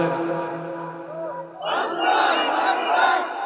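A large religious gathering roars the takbir response together, a loud, massed chant of many voices that swells after a held tone from the preacher's amplified voice.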